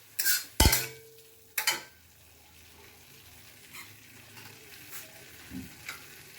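Tofu sizzles in a pan as hot water and chilli sauce go in, with a few sharp clinks of a utensil against the pan early on, then a quieter, soft frying hiss.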